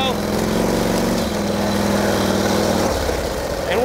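A 1949 Harley-Davidson Panhead enduro racer engine labours steadily up a hill in low gear, a loud, close, continuous rumble that shifts slightly in pitch partway through as the rider pushes on.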